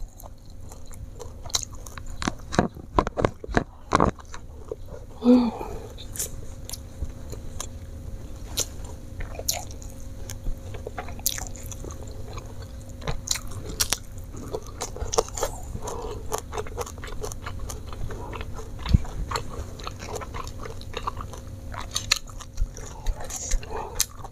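Someone bites and chews crispy fried fish with garlic sambal, making repeated sharp crunches close to the mic over about twenty-four seconds. A brief vocal sound breaks in partway through.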